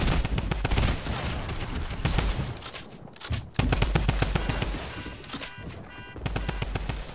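Heavy automatic gunfire from a Fortnite match rattles continuously in close, rapid bursts, with a brief break partway through before the shooting resumes just as loud.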